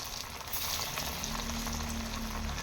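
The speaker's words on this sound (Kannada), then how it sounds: "ಅದನ್ನೆಲ್ಲ ಬಿಟ್ಕೊಳ್ಳೋಣ ಇವಾಗ ಎಣ್ಣೆಯಲ್ಲಿ" Masala vade of chana dal and spices being dropped into hot oil, a dense, close, steady sizzle of deep frying with light stirring, no voices.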